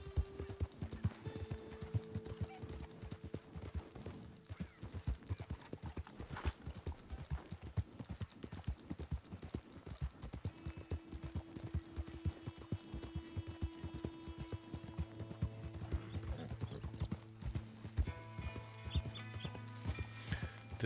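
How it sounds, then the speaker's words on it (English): Horse hooves clip-clop in a fast, continuous rhythm from a large Shire horse in the Red Dead Redemption 2 online game, with steady tones and a brief whinny-like burst mixed in, no voices over it. "the damn horse wigged out, man"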